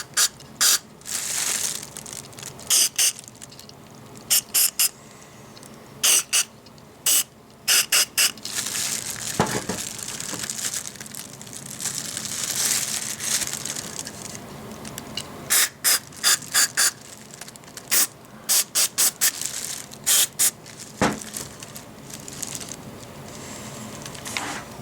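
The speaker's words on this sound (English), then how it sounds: "Turn a few times and give it some more sprays." Repeated ratcheting clicks and whirring bursts as the gear of a small RC brushed motor is turned while cleaner is sprayed into it, with spray hiss and mechanical rattle between, close and fairly loud.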